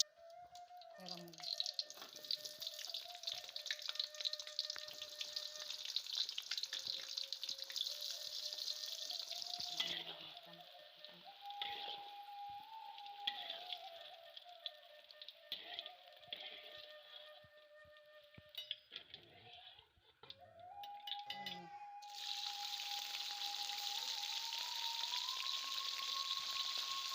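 Eggplant frying in hot oil while cooking a Padang-style dish: a steady, close hiss and crackle of sizzling that rises and fades across the stretch, with someone speaking at times and a faint tonal hum underneath.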